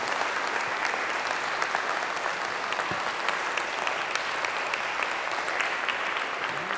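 A seated audience at a jazz vespers service gives a sustained, even round of applause. Many hands clap steadily for several seconds, with no voices over it.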